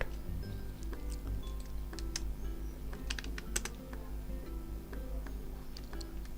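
Fingers typing on a computer keyboard in quick bursts of crisp, close key clicks with short pauses between runs, recorded in a quiet room.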